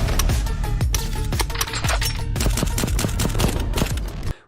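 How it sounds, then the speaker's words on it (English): Rapid, crisp mechanical clicks from the micro-switch trigger on a Hex Gaming Phantom PS5 controller, pressed repeatedly in a fast, uneven rhythm held close to the microphone, loud and dry with no talking. "That is a micro clicky trigger."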